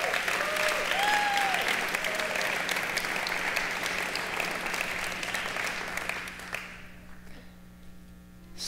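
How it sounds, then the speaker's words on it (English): Church congregation applauding a team during a Sunday sermon, a broad sustained round of clapping that fades out toward the end, with a faint tone and some murmur underneath. "Can we give that team a round of applause"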